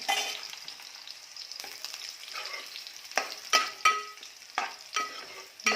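Garlic masala paste fries in a pan with a faint, steady sizzle, broken by several sharp scrapes and clatters as a spoon stirs it. It is close up and no one speaks.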